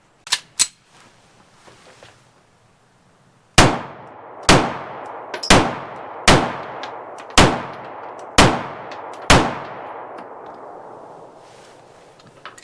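A Wilson Combat ULC Sentinel 1911 pistol fires two quick shots, then after a pause six more at an even pace of about one per second. Each shot is a loud, sharp crack with a ringing decay, close to the microphone.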